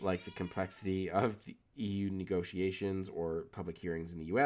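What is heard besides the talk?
No distinct noise like a dog, phone or traffic.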